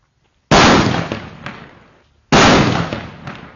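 Two atom bomb firecrackers go off about two seconds apart, each a sudden loud close blast whose rumble fades out quickly.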